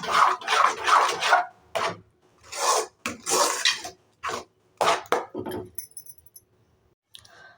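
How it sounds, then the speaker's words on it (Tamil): Rava kesari batter stirred in a metal vessel, scraping and rubbing in short bursts with brief pauses, close up with no talk. "நல்லா கட்டி இல்லாமல் நல்லா இந்த மாதிரி கலந்து விட்டுருங்க."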